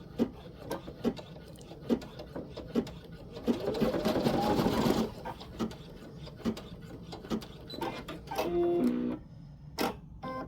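A Baby Lock Flare embroidery machine stitches a design in the hoop, rapid rhythmic needle ticking broken by a louder whirring burst and brief mechanical clatters of hoop movement.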